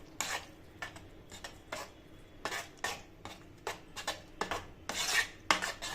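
Prawns are worked by hand into a mustard oil paste with poppy seed, mustard and coconut in a bowl for steamed prawns, giving repeated wet squelching rubs and light clinks against the bowl, close up with no talking.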